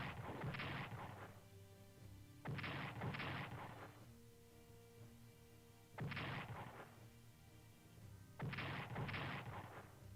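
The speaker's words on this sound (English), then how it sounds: "Defensive artillery." Artillery fire in the wartime strategy game Strategic Command: World at War comes as four separate heavy booming volleys at steady intervals. Each burst is loud and rumbling and fades into a quiet tonal game background.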